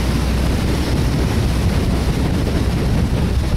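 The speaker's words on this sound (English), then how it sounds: "Wind has picked up a little bit." Wind roaring across open water aboard a boat five miles offshore, a loud continuous broadband rush buffeting the microphone with no voices.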